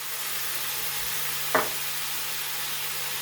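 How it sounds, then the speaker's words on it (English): Onions sauté in bacon grease in a skillet with a soft, steady sizzle, one brief clack of a utensil near the middle. "Where we have our onions sauteed here in the bacon grease"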